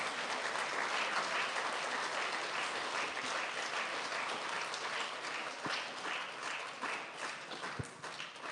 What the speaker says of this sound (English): Big round of applause for our special area.